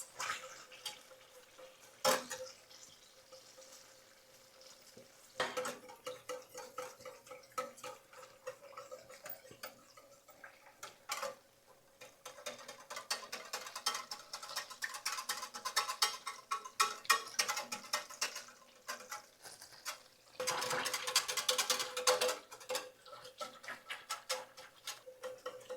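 Cream being stirred into a pan sauce for roasted chicken: irregular wet clicks, taps and bubbling from a utensil against the pan, close by, swelling in busier bursts toward the middle and end.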